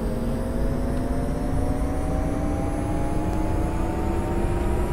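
The engine of a Bell 407 helicopter in the X-Plane 10 flight simulator drones steadily and loudly, its turbine whine rising slowly in pitch as the throttle increases.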